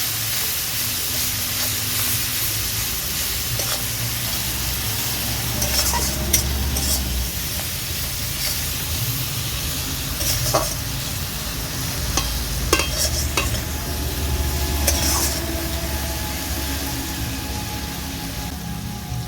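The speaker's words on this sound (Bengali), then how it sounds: "এবার সব কিছু ভালো করে আমি কষতে থাকবো" Okra cooked with cumin, coriander and chilli powders and a splash of water, stirred in a pan over steady sizzling and hissing, with irregular scraping stirs on top throughout.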